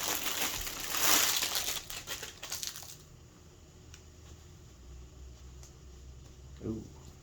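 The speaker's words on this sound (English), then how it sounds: "So open the JDM packaging." Crinkly JDM packaging being torn and opened during an unboxing of a Japanese hoodie, with a burst of loud close crackling and crumpling early on that then fades to quieter handling.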